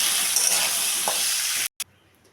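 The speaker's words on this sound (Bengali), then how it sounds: "আলুগুলো ভেজে নেব।" Potato pieces sizzle loudly in a spoonful of hot oil with salt and turmeric, a dense close frying hiss with a brief stirring scrape, cutting off abruptly near the end.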